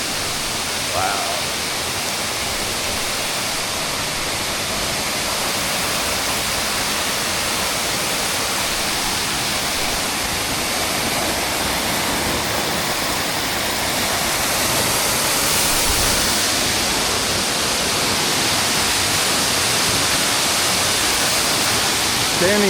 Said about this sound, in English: Walk behind the falls.